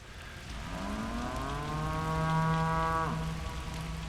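A cow in the video game Pathologic 2 lets out one long, loud, drawn-out moo that rises and then holds steady for about two and a half seconds, over a steady hiss like rain.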